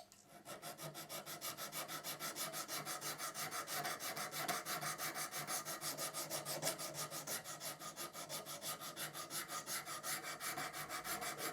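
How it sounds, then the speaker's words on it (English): Fine hand file rasping metal for the A-frame parts of a Stuart half beam steam engine model, a steady rhythmic back-and-forth stroking that runs evenly throughout at close range with no talk. "So I'm using one of these finer files here."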